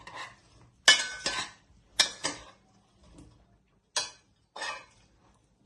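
Metal spoon clinking and scraping against a pan while fried Albanian-style liver is stirred with salt, five or six sharp separate clanks spaced about a second apart, close and clear with quiet gaps between.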